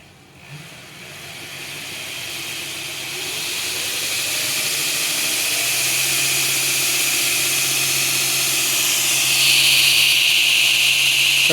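A Grizzly 2x42 belt grinder fitted with a contact wheel starts up and runs alone, its steady motor hum and hissing belt whir building over the first few seconds, then holding loud and even.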